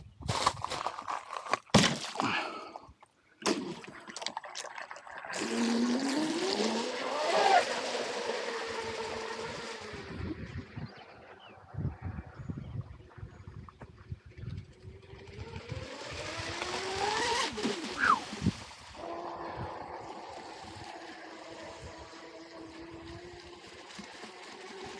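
Blackjack 24 RC boat on 4S power with a Rocket 3660 2150 kV motor and 42 mm 14-pitch prop, its high motor whine rising and falling in long passes across water amid wind buffeting and thumps.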